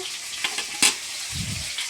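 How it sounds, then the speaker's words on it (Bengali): A fish head frying in hot oil in a home kitchen gives a steady broadband sizzle, with a few sharp spits and a soft stirring scrape partway through. "সেই মাছের মাথায় যে ভাজা হচ্ছে"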